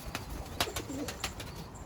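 Pigeons in a coop give short, soft coos and a few sharp chirps, close by and fairly faint, with brief rustles in between and no talking.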